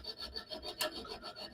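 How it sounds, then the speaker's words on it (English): Hand file rasping across a steel stiletto dagger guard in short, rhythmic strokes, about eight quick back-and-forth scrapes at close range, faint but steady with no voices. "As soon as you feel the file not cutting anymore, you can see there it's starting to clog."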